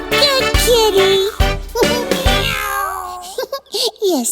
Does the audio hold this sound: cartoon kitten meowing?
yes